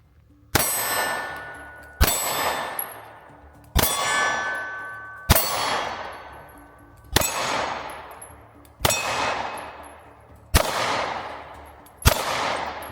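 A SIG pistol fires eight shots, each hitting a steel target with a sharp crack and a ringing clang that decays slowly. The shots come evenly spaced, about every one and a half to two seconds, loud and alone.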